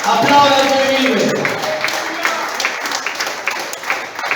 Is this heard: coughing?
no